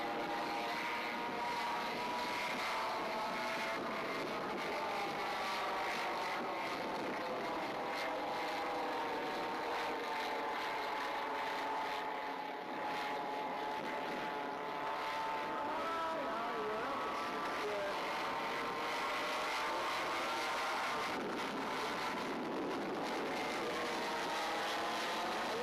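The engines of a radio-controlled model B-17 Flying Fortress drone continuously in flight, with a buzzing, wavering multi-engine pitch that rises and falls as the plane moves, steady and fairly prominent throughout.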